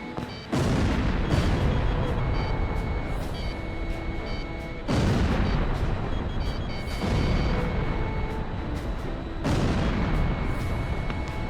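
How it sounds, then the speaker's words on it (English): Missile launches and blasts in the Ace Combat Zero air combat video game, heavy rumbling bursts that recur every few seconds over a dense, continuous roar, loud and close. "Galm 1, missile launched."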